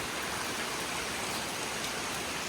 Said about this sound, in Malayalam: അത്രയും നല്ല മഴയാണ്.